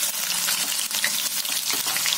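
Mustard seeds and cumin sizzle in hot oil in a wok for poha, a loud, steady hiss with scattered crackles and pops throughout.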